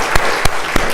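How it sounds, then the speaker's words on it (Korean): A church congregation applauds in worship, a dense wash of clapping with a few louder individual claps standing out at roughly even intervals over one second. "하나님께 영광의 박수를 쳐 올립니다"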